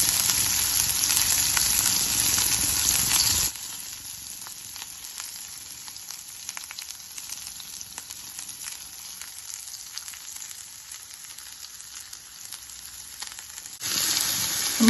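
Onion and coconut pieces fry in a pan for a Kerala-style long bean stir-fry, giving a steady hiss that is loud at first, drops to a quieter simmering crackle, then swells again near the end.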